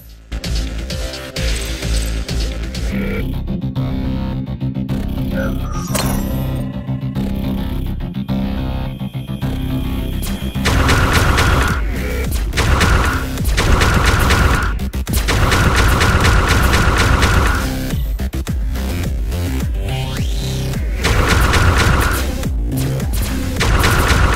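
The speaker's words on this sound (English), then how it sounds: "Icarus Missile Launch System." Missile strikes from the Icarus launch system in the top-down shooter ATOMINE on PC boom repeatedly, with heavy, loud blasts stacked over a dense, droning game soundtrack.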